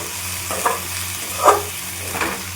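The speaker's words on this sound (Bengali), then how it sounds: "পোস্ত দিয়ে বেশিক্ষণ নাড়বো না" A spoon stirs curry with poppy seed paste in a pan, giving a few soft scraping strokes over a low, steady simmering sizzle, close and moderately quiet with no talk.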